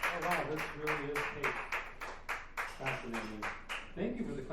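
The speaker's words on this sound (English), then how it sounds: "Thank you for the clapping." A dive bar comedy show audience claps in a quick, regular rhythm of sharp, distinct hand strikes, fairly near and sustained throughout, while someone talks over it.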